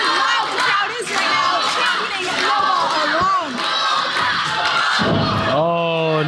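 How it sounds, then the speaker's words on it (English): A wrestling crowd at a women's championship match chants and roars loudly, a dense wall of voices with rising shouts and cheers and occasional thuds, one shrill whoop near the end. "And you can hear how loud the crowd is right"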